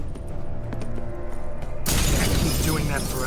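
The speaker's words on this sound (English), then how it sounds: "Gotta be some mirror here you won't shatter." A mirror shatters in The Witcher 3, a loud, bright burst of breaking glass hitting suddenly about halfway through and ringing on, after a stretch of game music and ambience.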